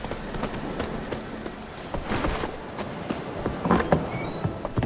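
Roach the horse trotting in a video game, with steady clip-clopping hooves on a path in Velen under a bed of ambient game sound.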